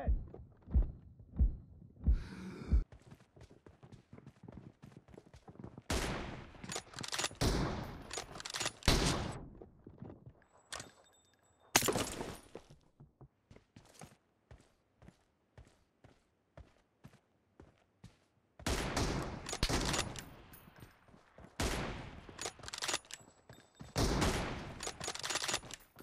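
Repeated rifle gunfire from a PUBG Mobile team deathmatch, bolt-action M24 sniper shots cracking in loud bursts with echoing tails, scattered across the clip between quieter stretches of footsteps and game noise.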